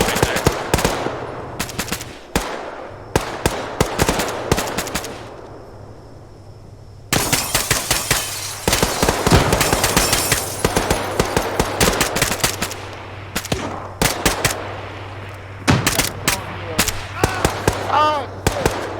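Rapid bursts of automatic gunfire crackle through an ARMA 3 vehicle firefight, with dense volleys and single shots over a steady low engine rumble, close and loud, while voices talk over radio in places.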